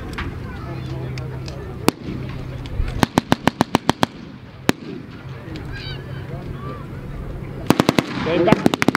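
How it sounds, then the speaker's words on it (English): Blank gunfire is exchanged between two sides in a military show battle with tanks and trucks. Sharp single shots and rapid bursts crack at mid distance over crowd and outdoor noise, and a brief lull falls between volleys. "Plenty of shots being exchanged between the two sides."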